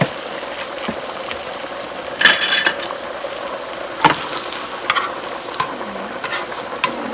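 Angel hair pasta with shrimp stirred and fried in a little oil in a pan, with scraping stir strokes and soft sizzling, a few sharper clatters standing out over a steady low background.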